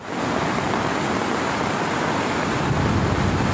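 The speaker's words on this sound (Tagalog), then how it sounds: "Kaya nakikita nyo ang lakas ng wave dito sa may likuran natin." Strong floodwater current rushing along a riverside after a wall collapsed, a loud, steady broadband roar like heavy surf that fills the whole stretch without pause, close to the microphone and with no voices.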